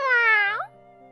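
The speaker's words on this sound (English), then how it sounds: "I found the source, a cat in the distance." One long, drawn-out cat meow, clear and fairly loud with a falling end, from a manga dub scene. It is followed by a quiet low hum.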